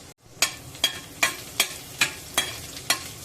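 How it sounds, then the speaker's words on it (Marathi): Unpeeled garlic cloves frying in hot oil in a tempering pan for a Marathi shrimp curry, heard as a soft steady sizzle with seven sharp stirring or scraping knocks repeating at a regular pace, close up, with no talk. "तेल गरम झालं आहे आता मी त्यामध्ये लसूण घालत आहे"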